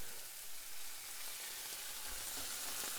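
Bluegill fillets fry in a pan on their second side, giving a steady, faint hiss of sizzling oil that carries evenly throughout with no voices.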